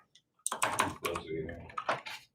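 Loud computer keyboard typing, a dense run of rapid clicking keystrokes with sharp bursts, heard up close and alone.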